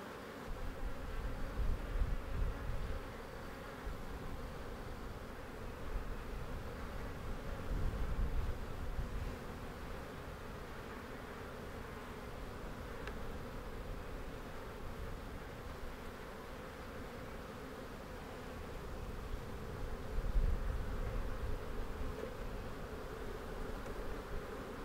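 Honeybees in an open hive buzz as a dense, steady drone that swells slightly at times and continues without pause.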